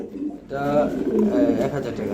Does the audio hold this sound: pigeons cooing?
yes